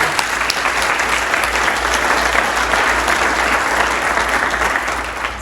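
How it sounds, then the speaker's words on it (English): An audience at a conference picnic applauds, sustained dense clapping at steady volume that fades slightly at the end. "let's give them a round of applause"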